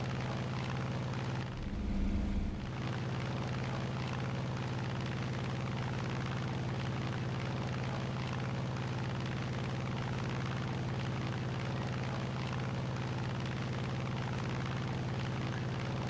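A captured German P-47 fighter in War Thunder drones with a steady, loud engine hum throughout, broken by a brief low thump near the start.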